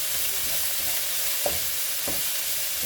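Shiitake mushroom japchae stir-fries in a hot pan, a steady close sizzle with a few soft stirring scrapes and clicks of utensils against the pan.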